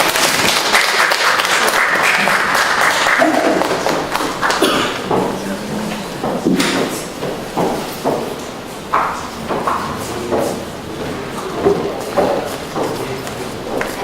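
Audience applause at a Korean magazine day event for parenting startups, a steady wash of clapping from a seated crowd that thins into scattered claps with a few thumps, a faint voice or two underneath.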